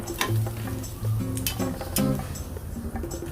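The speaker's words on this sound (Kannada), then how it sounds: "ಬೆಳ್ಳುಳ್ಳಿ ಕಲರ್ ಚೇಂಜ್ ಆದಮೇಲೆ ಈರುಳ್ಳಿ ಕೂಡ ಹಾಕಿ ಫ್ರೈ ಮಾಡಬೇಕು" Crushed garlic and onion fry in hot oil for a capsicum fry, giving a close sizzle broken by stirring scrapes and light clinks of a utensil against the pan.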